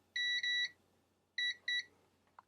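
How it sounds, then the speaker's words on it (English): A multimeter gives continuity-test beeps while solder joints on an FPV quadcopter drone are checked: two quick pairs of clear, close electronic tones separated by a short pause, then a faint click. "That little beep is just across the capacitor."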